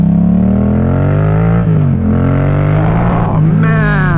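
A 2017 Yamaha MT07 motorcycle fitted with a full Scorpion exhaust revs hard while riding, its engine note climbing and dipping through gear changes, loud and close for a few seconds with no talking.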